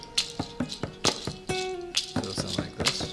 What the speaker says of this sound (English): I'm going to keep that percussion going for this section as well.